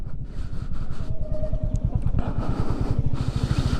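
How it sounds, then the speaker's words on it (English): A Royal Enfield Meteor 350 motorcycle engine thumps in a rapid, even single-cylinder beat while riding, loud and close, pulse quickening slightly as revs rise over wind noise. "the bike engine is really impressive"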